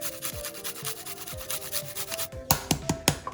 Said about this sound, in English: I've got 2 garlic cloves and a piece of ginger, and I'm going to grate it into this